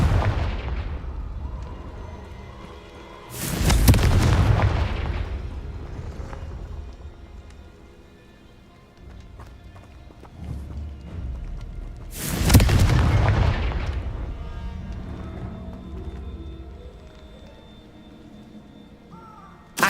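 Two heavy booming blasts from the Confringo spell in Hogwarts Legacy, spaced several seconds apart, each a loud near explosion with a long rumbling decay, with quieter ambient sound in between.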